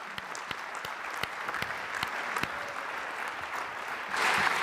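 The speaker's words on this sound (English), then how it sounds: "So a huge round of applause, please." A conference audience at an opening ceremony claps steadily, scattered sharp claps over a dense wash of applause that swells louder near the end.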